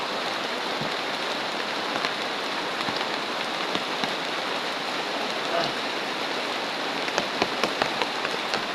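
Steady rain patters on a surface, a dense, even hiss with occasional sharper drips and no voices.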